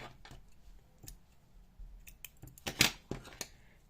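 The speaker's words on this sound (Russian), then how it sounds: "Теперь я обрезаю хвостик." Scissors snip the yarn tail of a small crocheted plush pumpkin: a couple of quiet close clicks and one sharper cut amid light handling noise.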